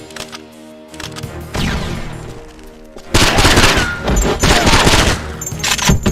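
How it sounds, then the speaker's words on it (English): Stun grenade detonating in the 007 Nightfire video game, a loud sudden burst partway through that cuts in over earlier scattered gunfire, followed by a dense, sustained roar of rapid shots and impacts. "Stun grenade!"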